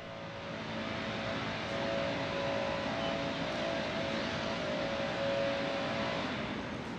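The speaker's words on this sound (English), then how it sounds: "noise is a big leaf blower." A big leaf blower running in a park, a steady, loud broadband roar with a faint constant hum that holds at an even level throughout, with no speech over it.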